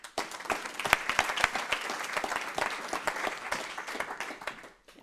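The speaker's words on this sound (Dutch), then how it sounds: "Mag ik een warm applaus voor Jacqueline Duyker?" An audience claps steadily for several seconds, a dense burst of applause that swells and then tapers off.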